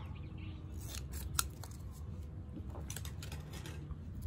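Scissors snipping through duct tape while sizing a strip for a wrist bracelet, a few crisp close cuts and rustles over a quiet, steady room hum, with no speech.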